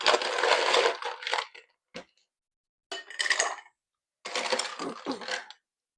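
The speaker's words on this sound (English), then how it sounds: "so we are going to add ice." Ice goes into a bourbon cocktail in several short bursts of crunching and clinking, near and fairly quiet, separated by brief silences.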